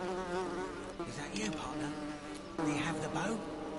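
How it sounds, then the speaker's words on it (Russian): Bees in the video game The Forgotten City drone in a continuous close buzz with wavering pitch, mixed with a muffled voice. "Но есть и проблема. Теперь пчелы."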